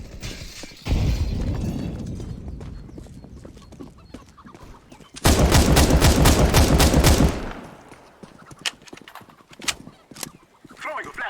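Counter-Strike gameplay: a grenade is thrown, then a loud burst of rapid automatic gunfire roars for about two seconds, followed by scattered single shots and clicks, with a voice speaking near the start.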